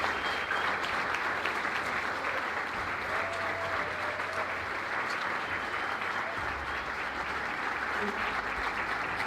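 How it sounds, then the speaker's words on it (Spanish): Sustained audience applause fills the whole stretch at a steady, fairly loud level, a dense wash of many hands clapping at an indoor gathering in Punta Ballena, Uruguay, with no speech over it. "por supuesto merecen un aplauso ustedes"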